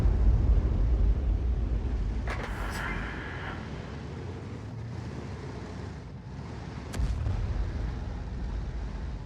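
In a tank video game, an artillery shell slams directly into the side of a tank, a heavy boom with a sharp crack followed by a rumbling tail and a second thud, while someone talks.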